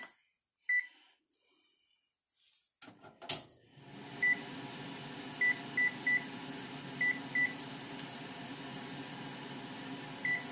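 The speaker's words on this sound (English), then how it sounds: "So we're going to set the timer." Kitchen oven timer being set while meatballs cook: a short series of crisp electronic beeps, each button press a quick single tone, over a low steady hum after some clattering handling noises.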